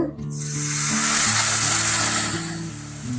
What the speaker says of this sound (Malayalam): അപ്പൊ ഇനി ഇതിലേക്ക് വിനാഗിരി ഒഴിച്ചു കൊടുക്കുന്നുണ്ട്